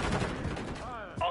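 Rapid gunfire in a Call of Duty match, a dense burst of shots filling the moment with a voice breaking in near the end.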